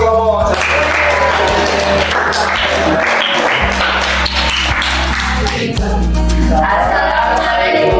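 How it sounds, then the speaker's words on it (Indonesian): A classroom group applauds after a presentation, loud clapping mixed with tonal sounds and a low hum, with talking voices running through it. "kita beri tepuk tangan untuk kelompok"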